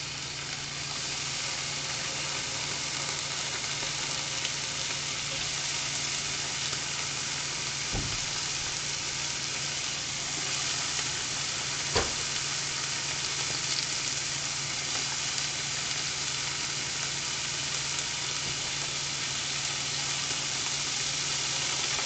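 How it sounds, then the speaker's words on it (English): Steady, dense sizzling of bacon frying in a frying pan, close and continuous, with a couple of brief clicks partway through. "Gotta love that sizzle."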